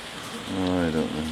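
Heavy rain pouring down at an outdoor sports event with spectators, a dense, steady hiss filling the scene and swelling slightly, with a faint low voice-like hum underneath.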